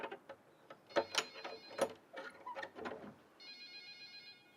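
A telephone bell rings inside an old traditional house, a bright metallic trill heard in bursts alongside clattering and knocking nearby.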